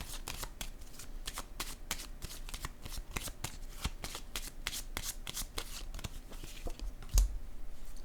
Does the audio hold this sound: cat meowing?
no